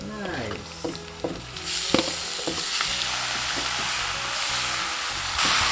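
Onions sizzle and fry in a pan for a mutton curry, with close clinks and scrapes of a spoon stirring them over a steady hiss.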